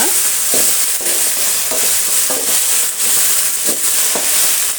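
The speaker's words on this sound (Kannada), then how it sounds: "ಬೆಂಡೆಕಾಯಿನ ಚೆನ್ನಾಗಿ ಫ್ರೈ ಮಾಡ್ಕೊಂಬಿಡೋಣ" Cut okra (bhindi) frying in a pan, with a loud, dense, continuous hiss of hot oil and repeated scraping stirs of a spatula, close up throughout.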